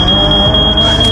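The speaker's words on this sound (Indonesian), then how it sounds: "Untungnya alarm akhirnya berbunyi." A smoke detector sounds a loud, continuous high-pitched electronic alarm tone, close by and alone, with no talking over it.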